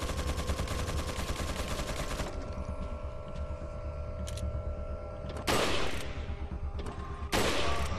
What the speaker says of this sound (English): now we need to take down that turret, or at least the person using the turret